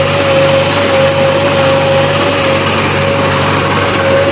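A tractor engine runs while levelling a field by lifting soil, giving a steady, continuous drone with a constant tone and no break across the whole stretch. No one speaks.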